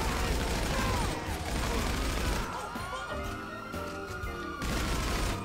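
Police fire at the player in GTA 5, with loud sustained gunfire and crashing impacts dominating the scene alongside mechanical clatter.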